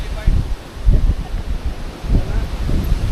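Strong gusts rumble and thump against the microphone in uneven bursts on a motorcycle ride in Dingalan, Aurora, close and loud, with a muffled voice faintly underneath.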